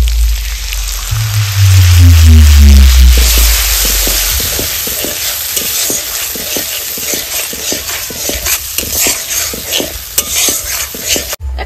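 Spice-rinsing water poured into a pan of frying cauliflower gives a loud, low gushing rush, then a steady close sizzle with repeated scraping stirs.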